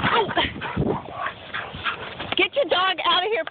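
A dog gives short barks, yips and high whimpers up close while people shout over it in an agitated outdoor encounter.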